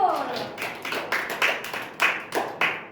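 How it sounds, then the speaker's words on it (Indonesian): Classroom clapping during a micro-teaching practice lesson, a group of students applauding two classmates with loose, uneven bursts of claps, fairly close and moderately loud, with voices mixed in at the start. "beri tepuk tangan kepada Isan dan juga Jul."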